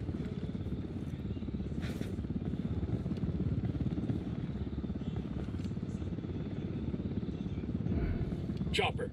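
A helicopter in the video game Ghost Recon Wildlands thumps with a steady, rapid rotor chop close overhead. The low pulsing drone continues unbroken, with brief sharp sounds of game action on top.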